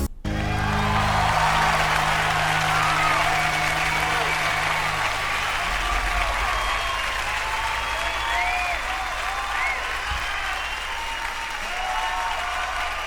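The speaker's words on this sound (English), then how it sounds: "Let's go ahead and listen to the end when everyone's clapping." An audience claps and cheers at the close of an acoustic performance, a dense, sustained ovation with a few whoops over fading instrument tones at the start.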